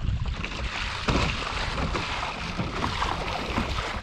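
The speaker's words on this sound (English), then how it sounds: "Going head on wind." Steady wind rushing over a kayak offshore while paddling into a headwind near a lighthouse and rocks, with water sloshing against the hull throughout; the roar stays loud and continuous, with a brief gust near the one-second mark.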